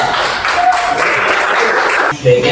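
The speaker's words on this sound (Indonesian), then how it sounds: "Ayo, tepuk tangan semuanya" A crowd applauding steadily, a broad clatter of clapping that continues throughout, with faint voices mixed in.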